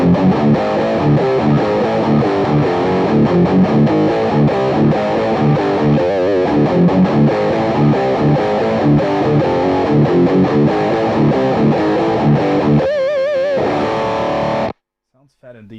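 Distorted electric guitar amp played through a FatCab speaker emulator, riffing loud and dense with chugging chords and a chorus-like wobble near the end before cutting to silence.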